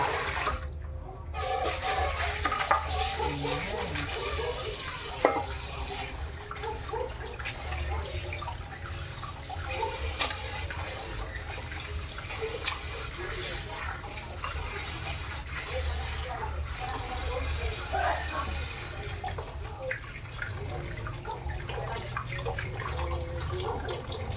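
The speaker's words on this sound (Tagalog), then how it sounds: "I-wash natin ng maraming bisis para clean na clean." Raw fish rinsed repeatedly in water for kinilaw, a steady splashing and running-water wash close by that continues unbroken for the whole stretch, with faint handling noises under it.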